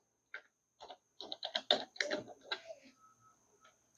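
Light tapping of a computer keyboard, a short run of soft clicky keystrokes typed in quick bursts, close but quiet, with no speech.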